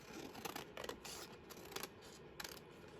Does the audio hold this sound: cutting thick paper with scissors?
yes